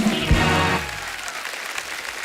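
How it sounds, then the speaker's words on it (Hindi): A studio audience at a comedy talk show applauds three MasterChef chefs, with loud clapping under a short voice at the start that then carries on alone and fades slightly. "एक बार जोरदार तालियां हो जाए हमारे तीनों मास्टर शेफ्स के लिए।"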